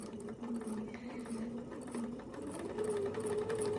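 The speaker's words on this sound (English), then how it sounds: "now I'm just going to slowly sew around the perimeter of this piece" A sewing machine stitches slowly around the edge of a raw-edge appliqué quilt piece, holding a steady, continuous motor hum with a faint rhythmic needle patter throughout, close and alone without talk.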